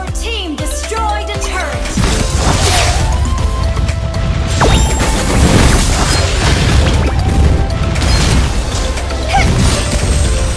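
Turret destruction in the Mobile Legends mobile game, a loud crash and boom amid layered battle effects, whooshes and impacts, with an in-game announcer voice over the continuous action.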